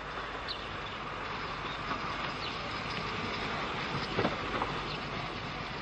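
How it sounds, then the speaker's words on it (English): LMS 4F steam locomotive drops a rake of empty wagons into the sidings at Pinnox Junction in the 1950s–60s, a steady rumbling roll of rail wagons with faint clanks and squeals, heard from a distance in old archive recording. "At Pinnox Junction, 4F number 44074 drops a rake of empty wagons off into the sidings."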